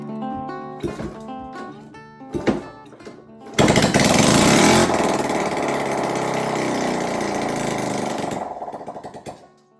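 A Honda Trail 70 motorcycle engine fires up after a few sputtering attempts, then settles into a loud, close, rattling run for several seconds before cutting off.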